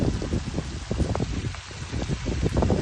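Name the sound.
heavy rain during a storm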